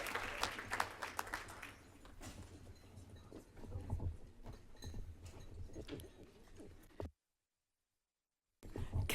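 An audience at a Mountain View Rotary leadership celebration breaks into applause. The clapping is loudest at the start, then thins into scattered claps, with a brief silence before another burst near the end.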